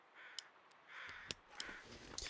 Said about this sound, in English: Traveling crows is interesting